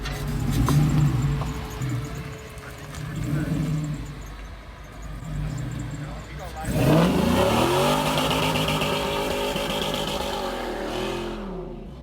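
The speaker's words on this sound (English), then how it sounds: "that's enough burning rubber for today" A 2006 Ford F-550 truck with an F60E transmission doing a burnout, its engine revving hard and rising in pitch before tires spin and squeal loudly for several seconds close by.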